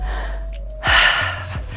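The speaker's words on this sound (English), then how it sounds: "I'm out of breath, I don't know about you." During a leg workout, someone catches their breath with a single sharp gasp, a short breathy rush heard up close against a quiet room.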